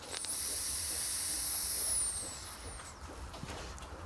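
Vapour hisses steadily from an electronic cigarette fitted with a new cartridge, a loud continuous high hiss for about two seconds that fades into quieter breathy noise, with no voices.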